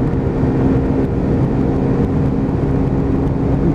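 A Lexmoto Titan motorcycle held hard on the throttle at around 60, its engine droning in a steady, loud, continuous whir with no break across the stretch.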